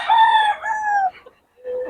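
A rooster crows once, close and loud, a drawn-out call with a falling tail, followed by a brief softer cluck.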